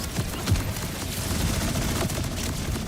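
Gunfire from a high-recoil weapon in Borderlands 4 sounds as a dense, rapid stream of shots blending into a steady, loud barrage of combat noise.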